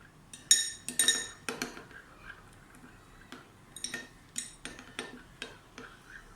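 Omelet eggs being mixed with salt, paprika and black pepper, heard as sharp, irregular clinks of a utensil against a bowl, close up, in uneven clusters with quiet gaps between.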